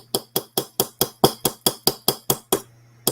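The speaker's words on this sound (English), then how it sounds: "And you hammer this down." About eleven sharp, evenly spaced hammer strikes ring out in quick succession, loud and close, then stop, hammering down a rivet on a faux leather bracelet with a makeshift tool instead of a real hammer.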